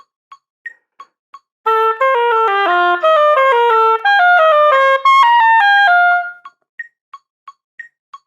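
Oboe playing 2022 TMEA All-Region Etude #18 at a faster tempo: a clear, close run of descending and rising legato notes, framed by steady metronome clicks before and after.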